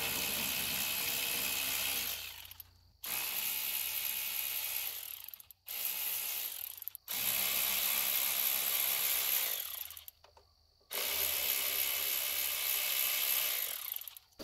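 A small wrench ratchets steadily while loosening fittings on a gasifier, with several long bursts of rapid clicking separated by brief pauses, close and fairly loud with no talking.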